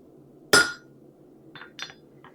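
A hammer strikes hot steel while forging a raising hammer: one loud, sharp ringing blow, then a couple of lighter metallic clinks, close by with no talk.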